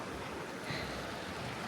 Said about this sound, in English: we've reached the bridge, a bridge that's giving us our first glimpse and crossing of the San Joaquin River